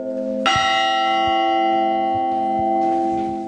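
Bells of Riga's Nativity of Christ Cathedral ring out loud and near, with a big struck onset, then long sustained resonant tones and further strikes layered as the peal continues.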